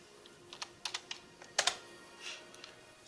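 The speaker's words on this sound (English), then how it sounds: "when we type in the word" Fast, uneven typing on a computer keyboard, with a run of light key clicks and a few louder strikes close by, no voices.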